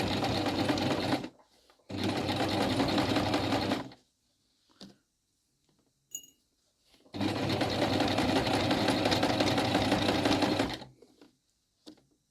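A sewing machine stitching a welt pocket on a coat, running in loud close bursts of rapid mechanical whirring, stopping twice between runs with quiet gaps and small clicks.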